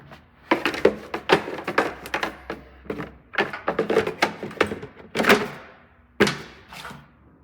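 A snowblower's cover being put back in place during maintenance, with a run of close, sharp thunks and knocks of the panel and fittings in irregular bursts, and no talk.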